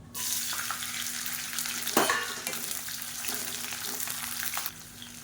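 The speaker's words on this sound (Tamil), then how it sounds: "இப்போ இந்த பரண்டை வதங்கட்டும்" Cleaned pirandai (adamant creeper) sizzling in hot sesame oil in a pan, a steady dense frying hiss close up with a brief louder stir partway through, no voices.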